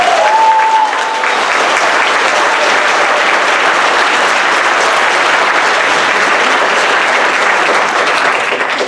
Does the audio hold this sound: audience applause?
yes